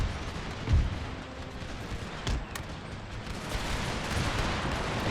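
Massed musket volleys from firing lines in the video game Empire Total War, a rolling, rumbling crackle of distant shots with a few sharper cracks standing out.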